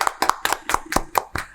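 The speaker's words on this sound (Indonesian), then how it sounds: "Beri tepuk tangan yang meriah" A small audience claps for a speaker at a talk, with a brief run of distinct, fairly close hand claps at a quick, uneven rhythm.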